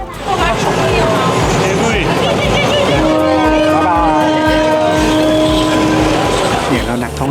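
A train on the line to Samut Songkhram rumbles past very close to shopfronts, a loud continuous roar with screeching metallic tones, as a crowd of people chatters underneath.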